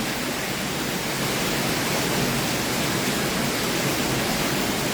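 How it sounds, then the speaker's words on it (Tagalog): Steady, dense hiss of heavy typhoon rain pouring without a break in Montalban, Rizal during Typhoon Crising flooding, loud and close, with no voices over it. "Malakas na naman yung ulan"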